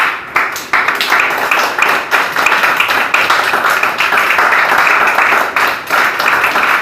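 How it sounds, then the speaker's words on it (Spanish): A church congregation breaks into loud, sustained applause during a Spanish-language sermon, dense hand clapping continuing for about seven seconds with brief dips in intensity. "¿Quién le da un aplauso al Señor?"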